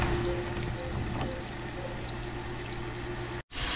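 Water pours steadily out of a rusty, rarely used water tank with a leaking water seal, a continuous close splashing stream that briefly cuts out near the end before resuming.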